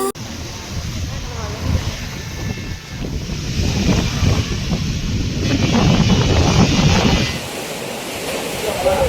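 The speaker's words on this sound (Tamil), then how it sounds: "இடி, மின்னல், காற்றுடன் கூடிய பலத்த மழை பெய்தது" A thunderstorm with heavy rain and strong wind sweeps over villages around Arur in Dharmapuri district. It makes a steady, loud roaring wash that thins near the end, with talking over it.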